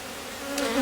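Honey bees buzz steadily in a Rose hive colony whose combs are full of nectar, a close, continuous hum that swells slightly toward the end.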